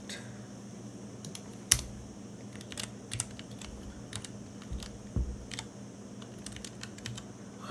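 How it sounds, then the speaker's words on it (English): Typing on a computer keyboard at a desk, with irregular bursts of close keystrokes and occasional sharper, louder key taps over quiet background noise. "I'm pressing the wrong key on my keyboard."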